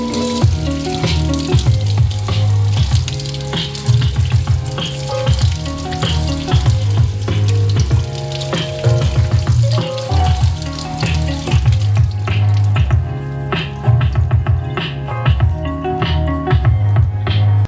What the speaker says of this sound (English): let's put some water on here